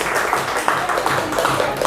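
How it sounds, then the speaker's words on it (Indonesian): A group applauds during an education session on positive culture and Indonesia's Kurikulum Merdeka. The clapping is brisk and scattered, with a roomy, somewhat murky texture over about two seconds. "tepuk tangan dong"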